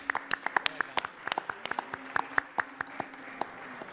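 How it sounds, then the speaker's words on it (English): Scattered clapping at a city council meeting as a supervisor is honored, a handful of distinct sharp claps in an irregular rhythm, fairly close, with a faint voice murmuring underneath. "Let's give him a round of applause"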